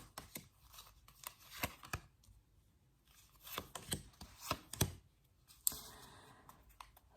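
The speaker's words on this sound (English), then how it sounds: "let's pull out some cards for air signs" Tarot cards are shuffled and pulled from a deck close by, a series of quiet papery riffles, snaps and slides in irregular bursts, with no talking.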